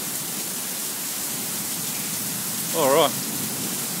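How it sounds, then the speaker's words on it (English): Heavy summer thunderstorm rain pours in Brisbane as a steady, dense hiss of downpour on surfaces, with a person briefly speaking over the constant rain. "we can definitely officially say we've our first good summer storm"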